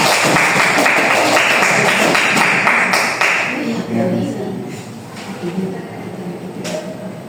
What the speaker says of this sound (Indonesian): Berikan aplaus untuk Sri Imelda.